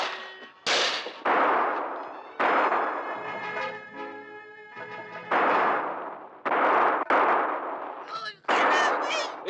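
A film scene is full of gunfire: loud, close bursts of shots come in repeated bangs with short gaps and ringing tails, mixed with shouting voices.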